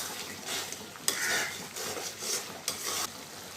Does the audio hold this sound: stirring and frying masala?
yes